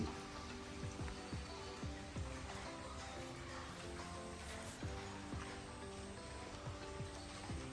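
Rain falls steadily outside, a continuous soft patter with scattered drips on surfaces, even and moderately distant throughout.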